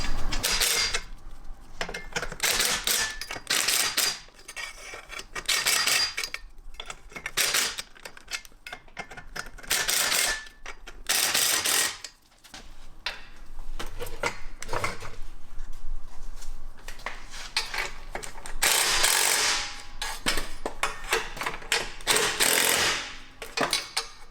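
Car jack worked under a vehicle during a Magnaflow catback exhaust install, with loud, close, rapid ratcheting and metallic clacks in irregular bursts filling the stretch, almost no talk.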